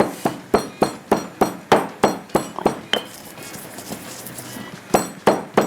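Spices being pounded by hand in a kitchen: a regular series of sharp, close knocks with a metallic clink, a brief pause, then more strikes. There is no talk.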